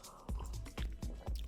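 Someone takes several gulps of water from a glass, close and fairly loud, in a steady rhythm with wet swallowing and squishing sounds roughly every half second.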